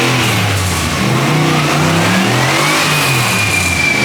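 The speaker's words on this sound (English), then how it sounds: "The throttle response on this engine is ridiculous. This thing feels like it has ITBs." An LS V8 swapped into a BMW E46 revs hard on a dyno, a loud, sustained engine roar rising in pitch with a whine climbing over it.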